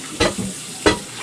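Frying in olive oil in a deep fry pan, with two short bursts of sizzling and stirring against a quieter background.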